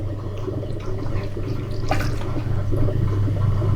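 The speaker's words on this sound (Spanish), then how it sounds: "Siempre saquemos el agua que queda adentro." Wet sponging inside a clay pot on a pottery wheel, drawing out leftover water: soft, continuous sloshing and trickling over a steady low motor hum, close and moderately loud, no talk.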